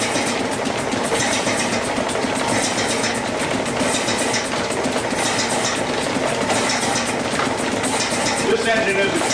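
A steam engine fitted with a crosshead pump runs in a woodworking shop, giving a loud, steady mechanical chugging and clatter that continues without a break.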